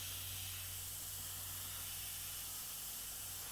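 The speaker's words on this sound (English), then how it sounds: "I've already started to spray the areas of rust with that" Airbrush spraying transparent orange paint over rust areas on a pickup truck (ute), a steady continuous hiss of air and paint held evenly throughout at moderate level with no talk.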